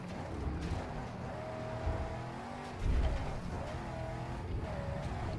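Vehicle engine in the Mad Max video game droning steadily and sounding underpowered as it drives, a continuous low rumble with a brief surge near the middle.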